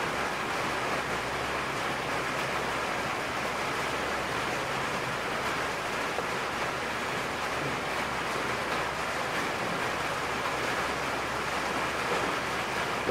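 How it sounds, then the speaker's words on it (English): Heavy rain pours down outside, a dense, steady hiss that stays loud and even for the whole stretch, with no voices over it. "It's pouring down the rain outside."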